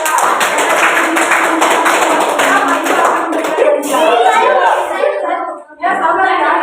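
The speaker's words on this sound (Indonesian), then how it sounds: "tepuk tangan buat teman kita" A classroom of children claps for a classmate in a brisk burst of many hands lasting a few seconds, then the applause fades into children's chatter and voices.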